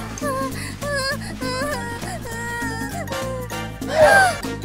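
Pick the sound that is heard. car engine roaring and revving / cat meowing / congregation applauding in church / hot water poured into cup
cat meowing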